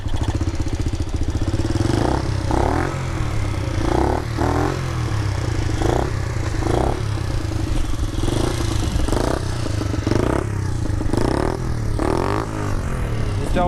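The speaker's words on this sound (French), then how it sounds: "ça tire à ralenti. Le moteur il tourne bien." A motorbike engine idles steadily up close with a throbbing, slightly uneven chug and occasional clattery pulses, running continuously throughout.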